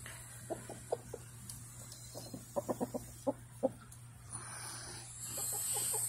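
A farm rooster gives a string of short, close clucks in an uneven rhythm, fairly quiet over a steady low hum, with rising hiss toward the end.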